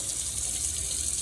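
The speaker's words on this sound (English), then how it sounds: "So I'm putting a little warm water into the pan" Warm water streams from a tap into a cast iron skillet, a steady close splashing rush with no voices over it.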